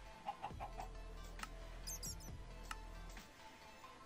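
Chickens cluck in the Minecraft video game, a few short clucks and squeaky game sounds over a low steady hum, fairly faint.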